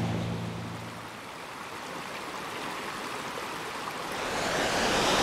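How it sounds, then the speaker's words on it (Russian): The Veldor-Kyrtador waterfall in the Northern Urals, a 15-metre fall: steady broadband rushing water heard at moderate distance, a constant even roar for several seconds with no voices. "Водопад Вельдор-Кыртадор высотой 15 метров, один из самых крупных водопадов на Северном Урале."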